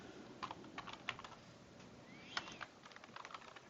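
Someone types a hostname command on a computer keyboard, quick soft keystrokes tapping in an uneven stream over faint background hiss.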